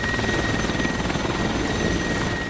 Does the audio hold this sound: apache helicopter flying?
yes